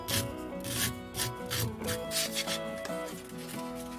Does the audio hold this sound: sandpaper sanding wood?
yes